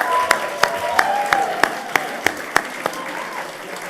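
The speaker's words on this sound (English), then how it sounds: "just a round of applause to everyone for coming along tonight" An audience applauding at the 2013 Excellence in Volunteering Awards night, steady crowd clapping with sharp, evenly spaced claps standing out close by, fading slightly toward the end.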